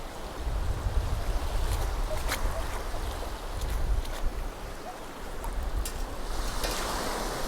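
Water swishes and splashes continuously as a metal-detecting find is rinsed on a beach, a close, steady watery churning with a few brief splashy bursts.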